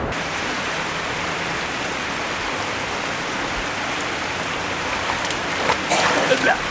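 Steady rain falls as a dense, continuous hiss of drops on surfaces, holding an even level throughout and growing slightly heavier and more spattery toward the end.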